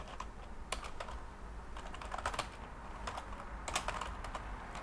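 Fingers type on a computer keyboard, a quick uneven patter of clicks in short bursts with brief gaps, fairly quiet over a steady low background hum, with no speech.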